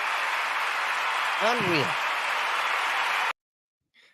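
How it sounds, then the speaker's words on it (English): A canned applause sound effect fired from a button: dense, steady crowd clapping lasts about three seconds, a voice briefly cuts in over it, then it stops abruptly. "Hit the round of applause button, okay?"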